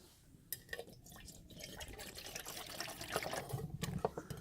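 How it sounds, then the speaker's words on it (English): Water being poured into a camping pot outdoors, a faint, close splashing trickle with small clinks and drips, no voices. "Then I take my pot and I put some water in there."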